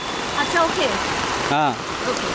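Heavy cloudburst rain pours down in Hyderabad, a dense steady hiss of water that runs under a person talking throughout.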